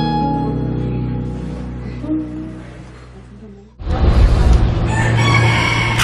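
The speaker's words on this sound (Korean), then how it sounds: "닭 울음소리가 참 정겨운 동네." A rooster crows loudly and close, a long drawn-out call that breaks in over a quieter background of a village home, with no talk over it.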